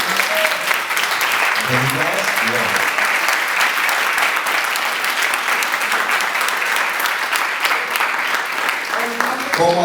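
Sustained, loud applause from an audience at a teachers' workshop, celebrating the Olympiad team, steady dense clapping throughout with a voice speaking briefly over it.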